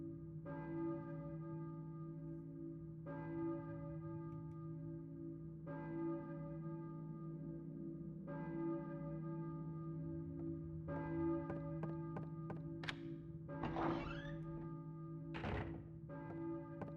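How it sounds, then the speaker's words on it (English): Church bell tolling in a video game, with repeated resonant strikes roughly every two to three seconds over a steady low drone, followed by a few sharper knocks and sweeping tones near the end. "I hear a church bell, maybe. Who was ringing the bell?"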